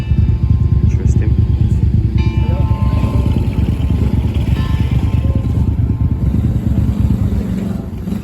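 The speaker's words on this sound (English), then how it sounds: "Honda GB250. I nearly bought one of these." A Honda GB250 single-cylinder motorcycle with twin exhaust pipes thumps loudly and close by at a steady idle-like pulse, while a voice speaks over it.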